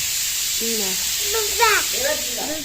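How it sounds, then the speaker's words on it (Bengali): Mustard seeds and panch phoron fry in hot oil while being stirred, giving a steady bright sizzle that runs under someone talking. "আমি একটুখানি সর্ষে আর পাঁচফোড়নকে হালকা করে নাড়াচাড়া করে"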